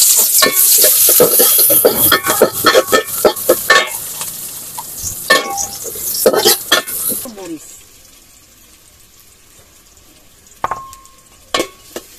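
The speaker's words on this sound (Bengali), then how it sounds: "এখন আমি দিয়ে দেবো পেঁয়াজ।" Onions frying in a pan for beef bhuna, with a loud crackling sizzle and busy stirring scrapes for about seven seconds. The sizzle then drops to a quieter hiss, broken by a couple of sharp utensil clinks near the end.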